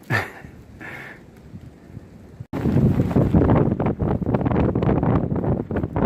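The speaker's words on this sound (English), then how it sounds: "You can probably hear the wind." Wind rushes and buffets the microphone on a foggy Appalachian Trail ridge near Amicalola Falls, quieter at first, then a sudden loud, sustained blustering gust for the rest.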